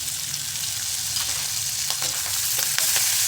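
Chopped green chillies and capsicum sizzle and sauté in a hot pan, a steady close frying hiss with occasional stirring scrapes and no talking.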